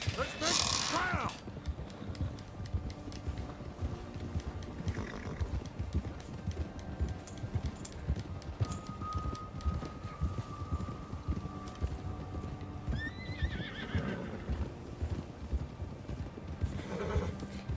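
Horse riding in Red Dead Redemption 2 on the trail out of Blackwater, with a steady, galloping clip-clop of hooves, a whinny at the start, and wind rushing past.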